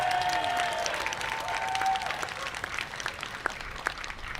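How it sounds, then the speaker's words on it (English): Applause from a crowd at a May Day workers' rally, fairly faint and thinning into scattered claps, with a ringing tone and some background noise early on. "Let's give him a round of applause."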